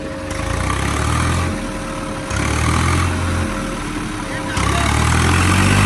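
A New Swaraj tractor engine runs while gears are changed, a heavy low rumble that surges and drops in steps as the revs shift, with talk over the top.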